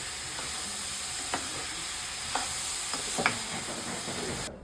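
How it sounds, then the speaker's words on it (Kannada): Vegetables and local tomatoes fry in a pan for home-style vegetable poha, a steady close sizzle with a few soft stirring clinks, ending abruptly. "ಈಗ ಚೆನ್ನಾಗಿ ಫ್ರೈ ಆಗಕ್ಕೆ ಬಿಡೋಣ"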